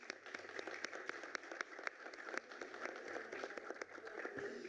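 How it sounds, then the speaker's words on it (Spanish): A crowd claps for the honorees in a formal ceremony, steady dense applause heard from a moderate distance at fairly low volume. "Despedimos con un fuerte aplauso a los homenajeados."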